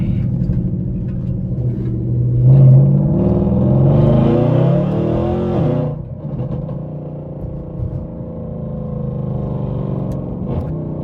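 Inside a Mercedes W204 C63 507 Edition on the move, the engine rumbles low and loud, swelling briefly as it revs up before settling back into a steady drone.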